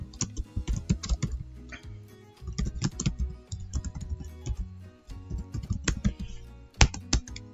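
Keys clatter on a computer keyboard while an address is typed into company details in accounting software, coming in close, steady bursts separated by brief pauses.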